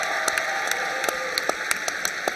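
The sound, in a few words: applause and cheering for Mims Baptist Church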